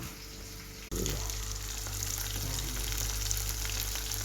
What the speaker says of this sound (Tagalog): Niluluto ko pa lang yan. Chicken popcorn.